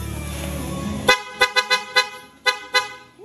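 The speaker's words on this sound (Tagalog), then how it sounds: "Double Pia Horn na may relay." A loud two-tone double air horn with relay, mounted on a scooter and run from its own battery pack, blasts in a series of short honks, about eight quick toots with brief gaps, sharp and close after a moment of engine rumble.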